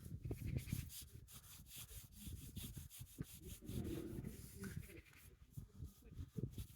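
K2 scratch remover is rubbed onto the paint of a Volkswagen e-Golf, producing quiet, rhythmic close-up rubbing strokes, while a person talks softly over it.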